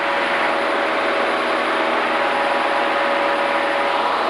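A small training airplane's engine drones steadily and loudly in flight, a constant unbroken roar with no talk over it.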